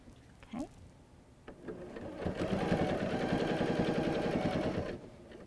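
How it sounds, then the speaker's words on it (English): A sewing machine runs steadily for about two and a half seconds, stitching straight across a piece of fabric after a brief back stitch, with a whirring mechanical drone that stops abruptly; quiet voices come before it. "And then sew all the way across."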